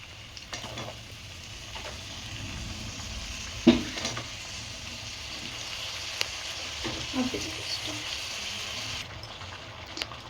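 Spice mix frying in a pan while being stirred, a steady close sizzle with occasional scraping stirs and a louder clatter partway through.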